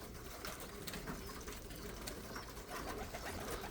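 Pigeons in a loft coo softly amid steady background noise, faint and distant, with occasional rustles and wing movement and no talk.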